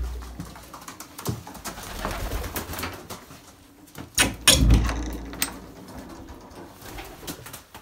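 Pigeons cooing and shuffling in a loft, a soft low murmur with scattered flutters and knocks, and one louder thump and burst partway through, no voices.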